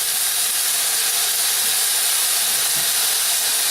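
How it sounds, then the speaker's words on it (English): A loud, even sizzle fills the clip, a dense continuous hiss of seasoned chicken breasts searing in a pan over medium-high heat, heard up close with no talk. "Listen to that sizzle. That's exactly what we want to hear when we're cooking this."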